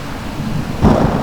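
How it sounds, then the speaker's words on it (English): A deep rumble of thunder swells near the end over a steady wash of video game storm noise, loud and close. "The storm is too loud."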